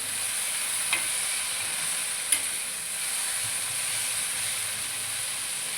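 Dried fish frying in a pan, a steady, fairly quiet hiss of oil with two faint clicks from a spoon, close and without talking.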